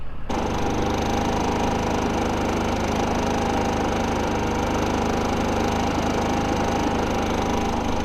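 Steady, loud engine drone from a Harbor Freight portable generator running continuously nearby, not in economy mode, about 80 decibels, with a constant low rumble and no voices.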